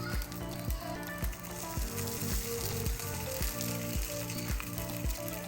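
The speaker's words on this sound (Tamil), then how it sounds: "இது மேலே கொஞ்சம் நம்ம எண்ணெய் விடுவோம்." Oil sizzles in a nonstick pan under a Bombay cheese sandwich or mini idlis, a steady hiss with a pulsing, rhythmic tonal layer running through it.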